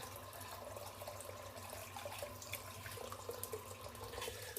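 A bathroom tap runs in a steady, even hiss while a face is wetted before a double-edge wet shave, close by and fairly quiet, with no talk.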